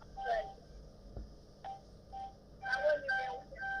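A participant's unmuted phone sends out faint telephone tones and beeps on a call line, under and between bits of a person talking.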